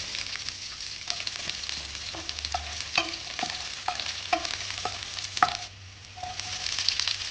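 Garlic and ginger fry steadily in hot oil with mustard seeds for a raw banana kofta curry, a continuous close sizzle broken by sharp pops and light spoon clicks throughout.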